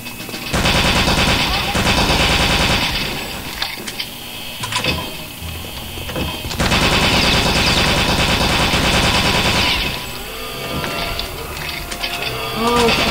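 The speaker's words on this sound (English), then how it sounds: "I'm gonna shoot him up." Machine gun fire in the video game Return to Castle Wolfenstein, loud rapid bursts of automatic shots in two long volleys with shorter clusters between, mechanical clatter around them.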